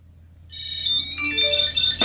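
A Tile key finder plays its ringtone, a bright electronic melody of high chiming notes that starts half a second in and rises in loudness, heard alone and close.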